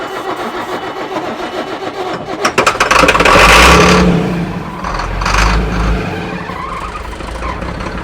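A donor engine for a tractor-pull build cranks and fires around the three-second mark, roaring loudly for a few seconds, surging again briefly, then settling into a steadier running note near the microphone.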